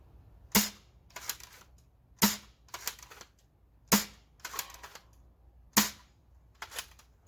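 An Evike Ceda Model S dart blaster fires outdoors on a range in four sharp, evenly spaced shots, each a loud snapping crack followed by softer mechanical clicks and rattles of the priming action.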